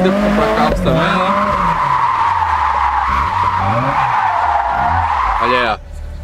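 A car drifting in the video game Japanese Drift Master: a loud, sustained tire squeal over a revving, pitch-shifting engine that rises and falls through gear changes, cutting off abruptly near the end.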